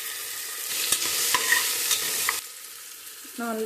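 Onion, garlic and tomato fry in a pan with a steady sizzle, close and loud, while a utensil stirs and scrapes with sharp clicks before the sizzle drops lower.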